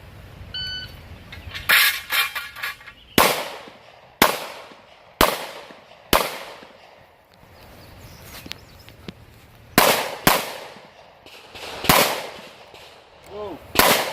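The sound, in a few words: pistol shots at an IDPA shooting match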